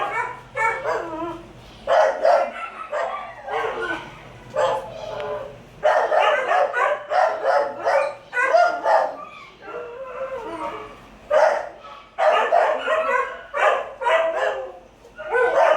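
Many dogs in an old concrete stray hold building at an animal shelter barking, yipping and howling together in loud, continuous overlapping bursts that echo through the enclosed space.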